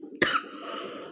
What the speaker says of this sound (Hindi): कुछ खांसी हुई